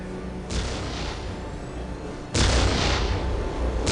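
Ork artillery in the Dawn of War game fires twice: a muffled blast rolls on for a couple of seconds, then a louder booming shot follows.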